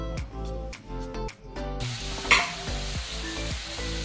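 Soybean chunks frying in a pan give a constant close sizzle, with a brief stir midway and background music carrying on underneath.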